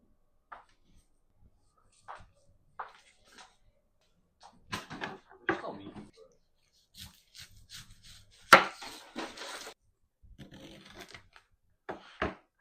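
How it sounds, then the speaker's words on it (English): Knife chopping bacon and onion on a cutting board in a home kitchen, heard as a scattering of soft, irregular knocks that bunch into a louder flurry near the middle, with long quiet gaps between. "We're going to chop up our bacon, our onion"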